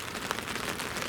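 Heavy rain pours down steadily outside a fishing shelter at a winter carp match, a dense, continuous hiss close by with no talking.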